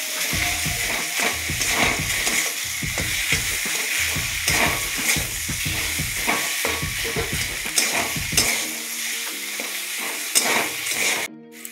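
Boiled, mashed potato stir-fried in a pan with salt and spices makes continuous close sizzling with repeated rhythmic spatula scrapes and stirs throughout, without talk.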